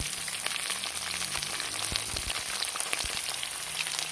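Tofu fries in plenty of cooking oil for sautéed bean sprouts, a steady close sizzle and crackle with a few sharper pops, no talk.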